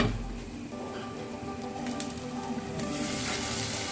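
Onions, tomatoes and green chillies sautéing under a lid for a Tamil fish kuzhambu, giving off a continuous soft sizzle that hisses like light rain and swells slightly toward the end.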